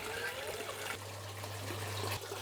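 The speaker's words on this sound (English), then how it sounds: "One important thing we do need to do though is we need to water them in." Water pours and trickles steadily onto young plants in an organic hydroponics system, giving a quiet continuous stream close by, with a low steady hum underneath.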